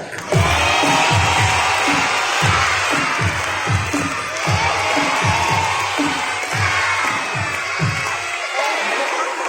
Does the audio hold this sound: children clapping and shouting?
yes